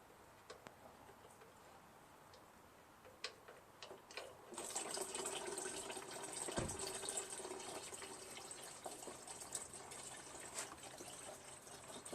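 Gasoline pouring out of the flooded crankcase of a Poulan lawn tractor with a 14.5 HP Briggs engine, a steady liquid stream that starts a few seconds in and runs on, close and moderately loud with some ticking before it.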